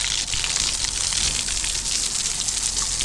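Water sprayed from a pipe onto newly built steps, a continuous bright hiss and splash running steadily throughout.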